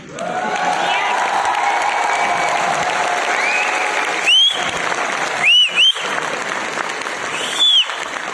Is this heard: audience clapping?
yes